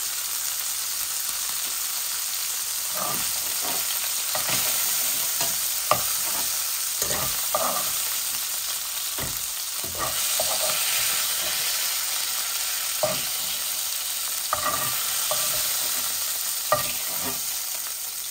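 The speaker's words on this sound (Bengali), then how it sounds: "এই যে মাছ ভাজি হয়ে গেছে" Pieces of fish fry in hot oil in a pan while a utensil stirs and scrapes them now and then, giving a steady, close sizzle broken by brief clinks.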